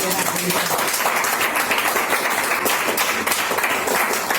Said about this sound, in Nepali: हाम्रो परमेश्वरलाई जोरदार ताली बजाएर